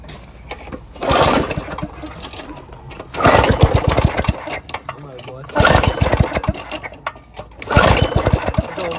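A mini bike fitted with a lawnmower engine is pull-started repeatedly, sputtering to life in loud bursts of rough, rapid engine chatter between quieter pauses, with voices around it.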